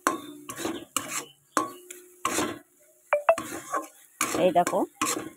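A spoon stirs carrot laddu mixture in a pan on the gas, giving repeated scraping and knocking strokes in bursts, with a few brief metallic clinks and a short spoken remark.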